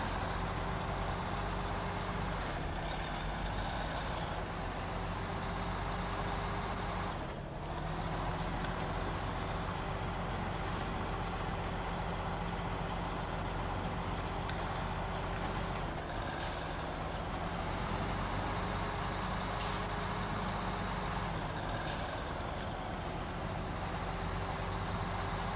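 A heavy off-road truck engine labouring steadily through a rutted road in SnowRunner, a constant low droning rumble with faint intermittent clanks and creaks, close and unbroken throughout.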